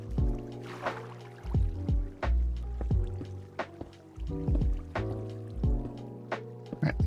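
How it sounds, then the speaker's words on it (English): In a video game, a water source block is placed and flows with soft watery splashing and trickling, mixed with steady tonal background music and occasional clicks. "And now place water source there."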